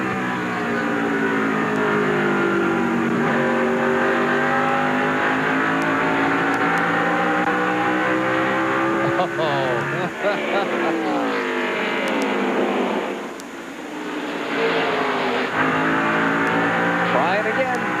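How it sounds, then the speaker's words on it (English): NASCAR stock cars racing on track in the 2001 Chevy Monte Carlo 400, with a steady loud engine drone and shifting pitch as cars jostle, under continuous race commentary. "He's looking on the inside of Rusty Wallace."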